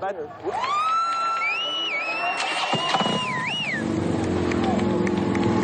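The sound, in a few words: group of motorcycles arriving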